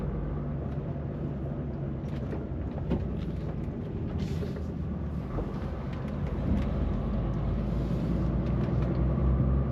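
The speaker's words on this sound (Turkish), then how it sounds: "Kamyon geliyor karşıdan." A truck approaches along a road, heard as a steady engine rumble and road noise from inside a moving vehicle, growing slightly louder toward the end.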